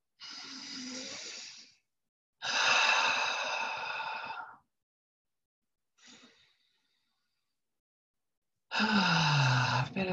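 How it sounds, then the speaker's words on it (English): Slow, deep meditation breaths, several long audible inhales and exhales separated by quiet pauses, close and clear with no talking. "Let's take some deep breaths."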